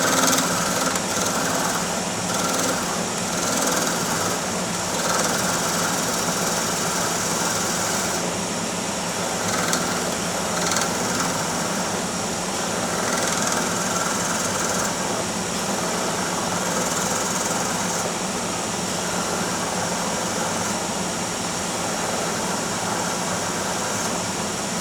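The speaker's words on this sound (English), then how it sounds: "You want to put your razor blade tight up against the ferrule and just trim away the tip." A cue lathe runs steadily while a razor blade trims a leather cue tip against the ferrule, a constant whirring motor hum with faint scraping, close and without talk.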